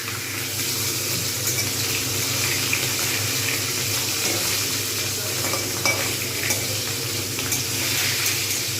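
Pieces of bhetki fish fry in oil in a pan, giving a continuous, fairly loud sizzle and bubbling crackle with occasional small pops and no break throughout.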